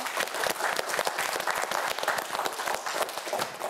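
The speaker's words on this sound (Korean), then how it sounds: "우리 박수 한번 보내줄까요?" Studio audience at a televised quiz show applauds steadily for an eliminated contestant, a dense, even wash of many hands clapping for several seconds without pause.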